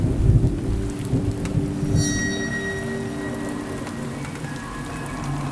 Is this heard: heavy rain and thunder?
yes